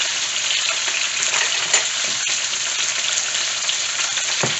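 Salmon fillets frying in a pan after being flipped, giving a steady, dense, close sizzle that holds evenly throughout with faint crackles and no voices.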